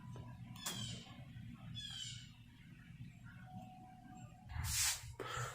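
A house cat meows at least twice amid low background hum and household clatter, with a louder rustle or clunk near the end; the cries are moderately near and fairly faint.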